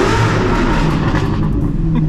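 Car engine revving hard with traction control switched off, a loud, continuous roaring rumble held steady throughout with no speech over it.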